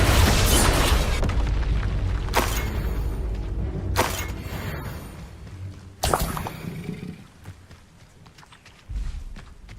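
Spell blasts go off in Hogwarts Legacy: several loud, booming bursts with sharp attacks erupt every couple of seconds over rumbling, crackling combat noise that fades toward the end before a final thump.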